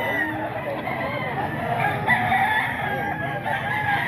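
Chickens cluck and a rooster crows amid a busy farmyard din at a poultry market, with steady layered poultry noise throughout.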